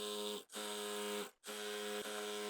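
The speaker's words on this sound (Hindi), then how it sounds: "इस तरह से खींचते जाएंगे और सिलाई लगाते जाएंगे" A sewing machine stitches fabric for a palazzo in steady motorized runs, with two brief stops between bursts, close and fairly quiet.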